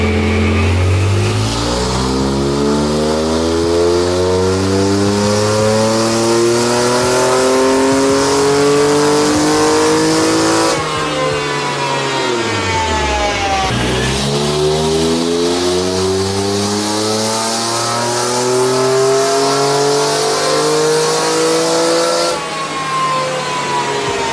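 A tuned Honda NSX engine revs loudly through a full pull, climbing steadily in pitch, briefly dropping off and then climbing again, heard close and alone with no talk.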